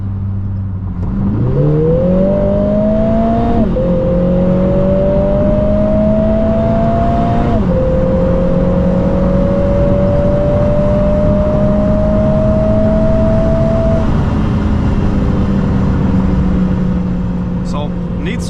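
A 400-horsepower four-cylinder Emira Turbo SE accelerates from 100 to 200 km/h on the Autobahn. The engine note climbs loudly from inside the car and dips briefly at each of two gear changes before pulling steadily on.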